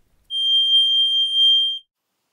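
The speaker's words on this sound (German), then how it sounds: "Bei anstehendem Batteriewechsel sendet er einen regelmäßigen Piepton aus." A single steady high-pitched electronic low-battery beep from an Elro RM144C smoke detector sounds alone for about one and a half seconds, clear and loud, then cuts off into silence.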